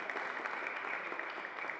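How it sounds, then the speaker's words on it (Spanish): An audience at a panel discussion on journalism claps briefly, with even, dense clapping that is soft and somewhat distant. "Un aplauso también, por favor"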